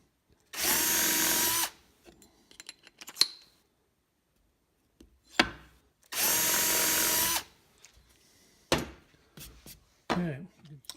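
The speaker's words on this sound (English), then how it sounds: "If you have a drill press, go ahead and use it" A drill press bores mounting holes for ski bindings in two loud, sustained whirring bursts, each about a second long. Between them come clunks and handling noises, with some talking in the gaps.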